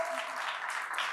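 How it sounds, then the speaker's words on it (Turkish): Brief audience applause at the 11th EU Human Rights Short Film Competition award ceremony, a short wash of many hands clapping heard at moderate distance. "Alkışlar"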